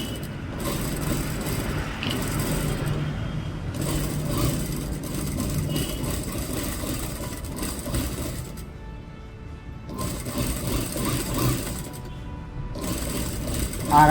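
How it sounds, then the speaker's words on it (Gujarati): A tailor's sewing machine stitches a 1.5-inch fabric strip in several steady, whirring runs separated by short pauses, close and fairly loud, with someone talking over it in places. "જો મેં આટલી સિલાઈ ચલવી છે, જોઈ શકો છો."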